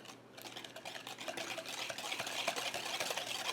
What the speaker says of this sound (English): we'll just whisk our ingredients together